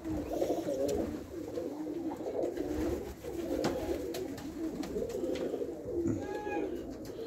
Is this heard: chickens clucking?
no